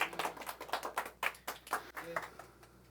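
A congregation clapping during a church service, a quick uneven run of hand claps with a brief voice heard among them, fairly faint.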